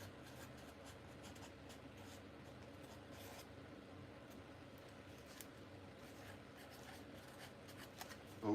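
A marker or pen scratching out a label across a shipping package, with steady continuous strokes against a low room hum, close and quiet, while packing a vintage E.J. Parker instrument.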